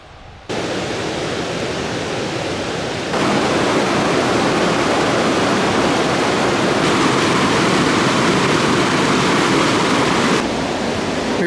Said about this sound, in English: Take a break by the river.